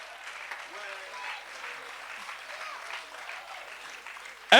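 An audience in a church applauding and cheering, steady scattered clapping from a distance throughout, ending in a sudden loud burst.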